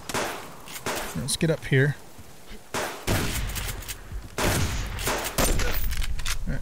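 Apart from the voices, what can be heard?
gunfire from the video game Subsistence, E55 Magnum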